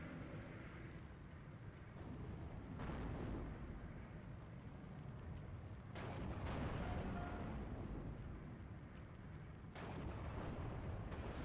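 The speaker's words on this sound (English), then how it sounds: "And this is the 2K bombs." Booming 2K bomb blasts in the Steel Division II war game, a dense continuous rumble of explosions and artillery-like bursts with several sharper impacts layered over the low roar.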